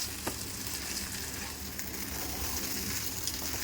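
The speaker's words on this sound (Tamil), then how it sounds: "மாவு கொஞ்சம் கெட்டியாக ஆகிற மாதிரி நல்லா வதக்கிக்கணும் மாவை" Rice flour dough with grated coconut sautéed in a hot pan for uppu urundai: a faint, steady sizzle runs throughout, broken by a couple of light utensil taps, with no voices.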